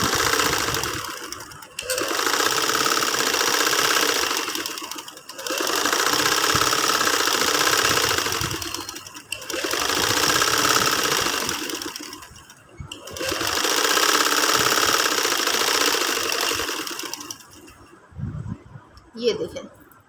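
Sewing machine stitching invisible lace onto fabric, running in steady buzzing bursts separated by short pauses, close and loud, with a few handling knocks at the end.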